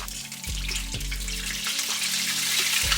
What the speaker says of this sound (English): we are going to throw them dumplings in there in slow motion like that